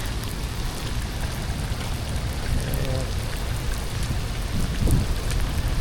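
Steady rain hissing and pattering on surfaces, constant and fairly loud, with a few faint knocks underneath and no speech.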